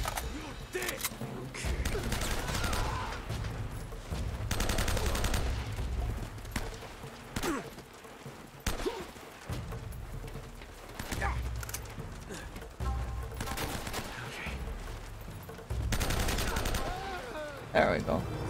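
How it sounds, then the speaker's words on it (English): Rapid gunfire in Uncharted, loud bursts of shots and automatic fire in clustered volleys with clattering impacts, while someone talks excitedly between and over the shooting. "Panic shooting, panic shooting."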